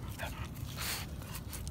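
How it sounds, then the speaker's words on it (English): A Giant Schnauzer whimpers and yips in short, high, nasal bursts close by over steady background noise. "Dog."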